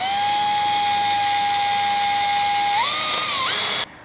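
Steady high-pitched whine of a power drill running a screw into a press-in plug on a Ford FE engine block, holding one tone before wavering and stopping abruptly near the end.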